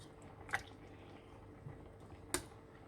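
Bamboo shoot curry thickened with sticky rice simmers in a pot, with a few faint, isolated bubble pops and drips over a low background.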